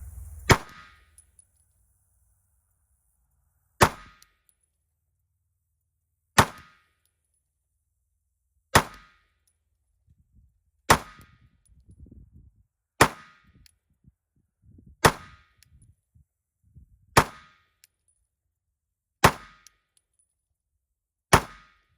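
Ten Federal Punch 9mm rounds fired from an everyday-carry pistol over a chronograph, sharp loud cracks spaced about two seconds apart with quiet gaps between, no talk.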